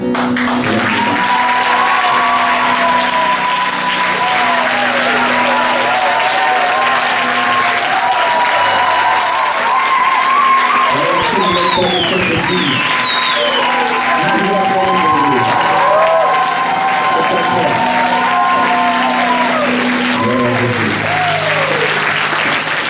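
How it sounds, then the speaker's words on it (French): A church congregation claps loudly and continuously, a dense, sustained wall of applause from a large crowd, with a preacher's voice and shouts carrying over it. "est-ce qu'on peut acclamer?"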